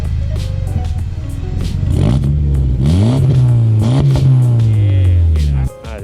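A Honda Civic Coupe turbo engine, about 200 horsepower, revs up loudly several times in quick bursts, pitch climbing and falling with each press, then abruptly drops back near the end.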